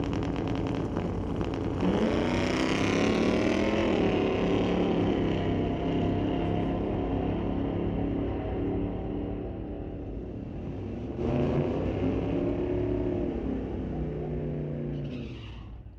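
A 1968 Chevelle and a white Ford launch side by side in a drag race, loud engines roaring and rising in pitch through the run with a brief dip and second surge, continuous and close.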